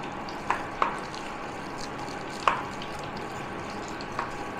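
Jackfruit pakora batter kneaded by hand in a bowl, giving a soft, steady wet squelch with a few sharper squishes along the way, close and alone.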